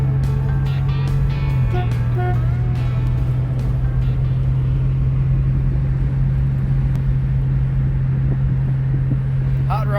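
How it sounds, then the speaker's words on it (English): Hot rod cars rumbling past in a parade on the Hot Rod Power Tour, a steady low engine drone with a sustained hum and scattered clatter, continuous and moderately near throughout. "Hot rods on parade."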